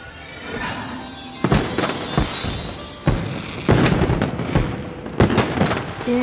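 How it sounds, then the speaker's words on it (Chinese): Fireworks bursting during a night celebration in a Chinese fantasy drama, a run of sharp, loud cracks and booms at irregular intervals over a crackling, hissing background, with no one speaking. "再为我放一次烟花"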